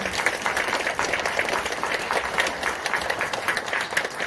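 Steady, dense applause from a hall full of students in a large university auditorium in Gumi, thanking a visiting guest lecturer, sustained evenly throughout.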